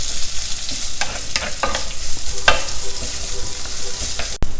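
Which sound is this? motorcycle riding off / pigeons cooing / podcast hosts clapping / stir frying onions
stir frying onions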